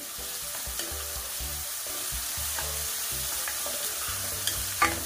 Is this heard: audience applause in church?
no